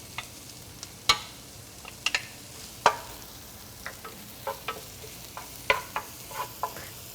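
Garlic frying in a pan for a spiced pasta side dish, a soft steady sizzle punctuated by a dozen or so sharp spoon clicks and scrapes against the pan at irregular intervals.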